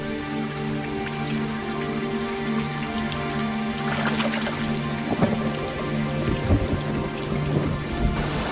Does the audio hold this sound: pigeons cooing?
no